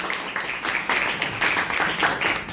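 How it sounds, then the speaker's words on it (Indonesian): A classroom of students claps for a classmate, a brief, steady patter of applause at moderate loudness lasting a couple of seconds. "Oke, tepuk tangan untuk Dani."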